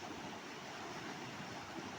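Telugu Ganga water is released from one tank and flows into a lake as a continuous, uniform rushing wash that is fairly quiet and distant, with no voices.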